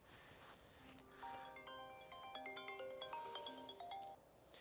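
A phone rings over about three seconds with a repeating electronic melodic tone, steady and fairly clear against a quiet room, and no voices are heard.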